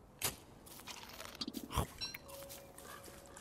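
A character in the video game Don't Starve Together crunches on gears as treats, with several sharp, brittle biting and chewing crunches in quick bursts over faint background game sounds.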